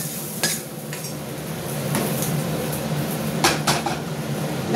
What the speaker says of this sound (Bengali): এবার এটা আমি খিচুড়ির মধ্যে দেখো দিয়ে দিচ্ছি